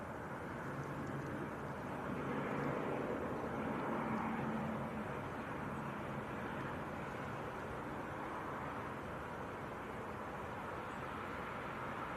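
An Aer Lingus airliner from Belfast at Leeds Bradford Airport makes a steady, distant roar that swells slightly and then holds at an even level throughout.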